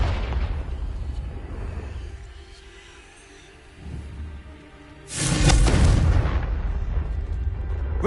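Confringo fire spell blast in Hogwarts Legacy: a low rumbling boom early on, then a second, louder explosive burst about five seconds in that roars and slowly trails off, with no talking.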